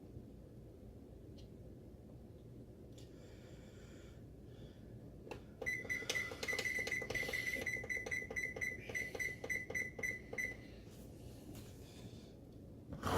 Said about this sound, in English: we're going to take this, set the timer for 3 hours